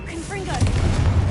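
In Hogwarts Legacy, the Confringo blasting spell goes off after a short shouted voice, giving a dull, heavy booming burst that rumbles low and close.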